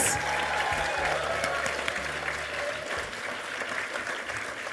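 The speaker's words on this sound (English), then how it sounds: "let's give them all one more round of applause." Sustained applause from an audience at a state Australian of the Year awards ceremony, a dense steady wash of clapping held at even loudness throughout, with faint low hum beneath.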